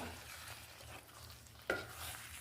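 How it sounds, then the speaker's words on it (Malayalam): Lemon pickle being stirred in a pan, a soft quiet scraping and faint sizzle with one sharper clink of the spoon near the end, no talking. "അഞ്ച് മിനിറ്റ് നന്നായിട്ട് ഇളക്കി കൊടുക്കുക"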